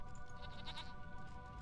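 A goat in Age of Empires 2 gives a short wavering bleat over a soft tonal backdrop of game music and ambient noise.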